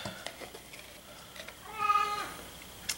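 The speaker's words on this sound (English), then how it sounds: "Yeah, you hear Jake from State Farm. You know, he was indoor, outdoor cat up north" An indoor cat gives a single clear, drawn-out meow, fairly close, after a stretch of quiet room sounds with faint clicks and taps in a kitchen.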